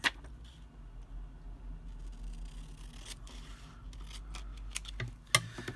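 Scissors snip through a wildflower-themed book page being trimmed for a handmade country diary tag, a few close crisp cuts and light paper scrapes over a quiet room hum, with no talking.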